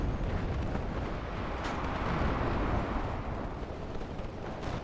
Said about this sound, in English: MP3s unloading some shots here on this B2 coming in.